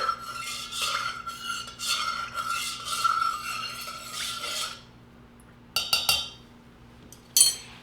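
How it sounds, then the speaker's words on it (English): Lip balm mixture stirred in a container, giving bursts of scraping, rasping strokes for about five seconds, then a pause and a few sharp clinks near the end, close and fairly quiet with no talking. "And then we're just going to stir."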